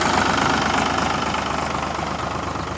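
A tractor engine idles steadily nearby, a continuous low rumbling chug with a rapid rhythmic knock, slightly fading toward the end, as the tractor turns toward a temple.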